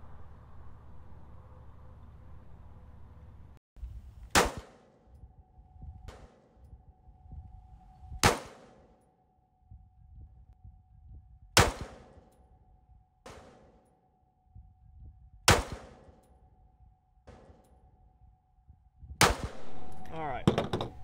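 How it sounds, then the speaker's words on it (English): Six pistol shots fired at a target 25 yards away, each a sharp loud crack with a ringing tail, spaced several seconds apart, with a faint steady hum and quiet movement between shots. "So now we'll try to shoot an additional 5 at 25 on the top bolt."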